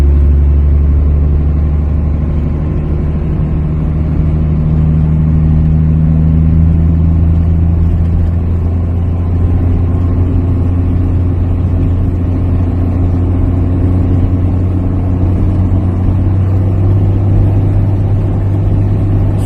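The diesel engine of a Dodge Cummins truck under throttle gives a loud, steady, low rumble that holds at an even pitch throughout, with no voices.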